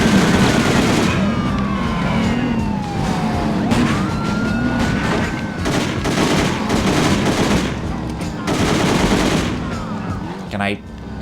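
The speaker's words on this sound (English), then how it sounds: "I'm just gonna stick with the tried and true technique of hose this thing with bullets." Dense, sustained automatic gunfire from the video game Driver: Parallel Lines rattles on almost without pause, loud and close, with a police siren wailing beneath the bursts.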